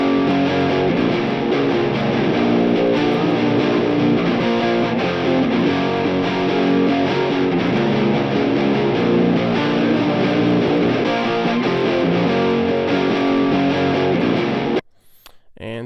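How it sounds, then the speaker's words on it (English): Dense, sustained distorted electric guitar played through Bayou 212 and Marshall 1960A cabinet simulations, loud and continuous before stopping abruptly near the end. "now what you just heard is that Bayou 212 on the left, and then on the right, a Marshall 1960A cab"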